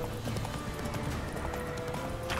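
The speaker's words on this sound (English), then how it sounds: "Horse! Get over here, Roach!" A horse galloping in The Witcher 3, rapid rhythmic hoof clip-clops under dense game noise and background sound, steady throughout.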